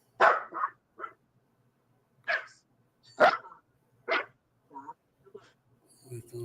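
Several short, sharp dog barks come in irregular bursts with pauses between them, fairly close, with a little faint background noise.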